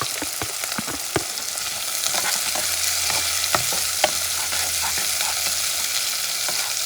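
Onions and sweet peppers sizzle in a pan for coconut curry lamb, a constant frying hiss broken by irregular scrapes and clicks of stirring, with no voices.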